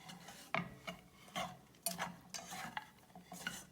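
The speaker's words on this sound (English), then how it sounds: "we're going to stir in some cashew nuts" Sautéed cashew nuts are stirred into upma, a South Indian savory breakfast, with a spoon scraping and rubbing against the pan in several distinct strokes, close and fairly quiet, with no talking.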